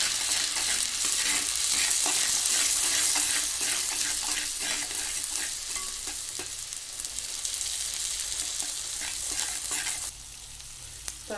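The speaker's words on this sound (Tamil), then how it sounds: "ஒரு 2 மினிட்ஸ் நல்லா பச்சை வாசனை போகிற வரைக்கும் ஒரு 2 மினிட்ஸ் கிளறி கொடுத்துக்கலாம்." Onion masala for a Mughlai egg kurma fries in oil while being stirred, making a dense, continuous close sizzle broken by repeated scraping strokes of the spoon. It drops slightly quieter near the end.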